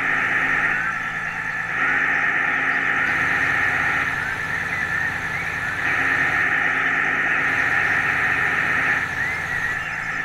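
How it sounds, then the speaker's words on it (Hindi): A tractor pulling a trailer in a driving simulator video game hums with a steady mid-pitched engine drone, loud and continuous with slight periodic swells, no talk. "फिर भी हम काफ़ी स्पीड में लेकर चल रहे हैं ट्रैक्टर को।"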